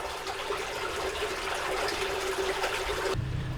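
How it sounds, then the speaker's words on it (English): Clean water pours steadily from an old brick-and-mortar well or spring, a constant close rushing flow that stops abruptly near the end. "It's actually really clean water pouring out."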